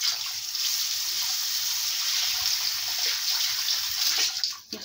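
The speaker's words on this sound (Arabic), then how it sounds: "نغسل ايدينا، نشف ايدينا" Hands washed under a running tap in a home kitchen, a steady close hiss of flowing water splashing throughout, easing off at the very end.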